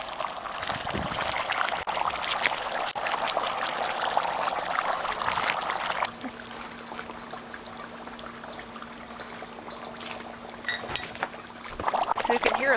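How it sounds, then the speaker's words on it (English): Dry ice in boiling water: loud, vigorous bubbling and rushing of water, dense and continuous, then quieter simmering with a steady hum before the churning surges again. "So you can hear a loud bubbling here"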